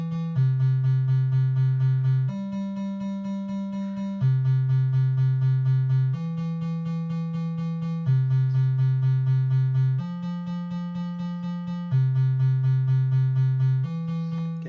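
A looping electronic synth sequencer pattern from a Novation Launchpad Pro, steady repeated notes shifting between a few pitches every couple of seconds in an even, mechanical rhythm.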